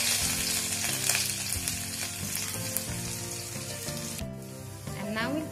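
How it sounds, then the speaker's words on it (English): Chopped green chilies and grated ginger hitting a hot pan, a loud sizzle with stirring scrapes, close and continuous under background music. "And now we'll put in the green chilies chopped and the ginger that is grated."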